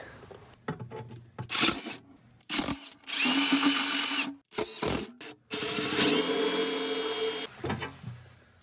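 Loud, close bursts of a power drill and hole saw grinding through a van's metal body, starting and stopping repeatedly, with longer runs of whining cutting in the second half.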